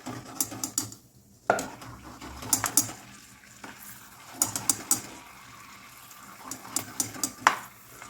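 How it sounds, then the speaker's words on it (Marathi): Almonds fry in hot oil in a pan, with a faint sizzle under repeated clattering and scraping of a spoon, a few sharp knocks standing out, close by. "बदाम पण छान फ्राय करून घेतलेले आहेत"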